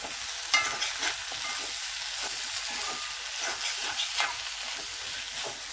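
Potato roast pieces being turned while frying in a kadai, with a steady sizzle of hot oil and several scraping, tapping strokes as the spatula flips them.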